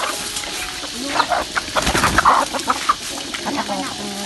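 A flock of many chickens clucking and squawking close by in a busy, overlapping chorus, with occasional louder cackles rising above the constant farmyard murmur.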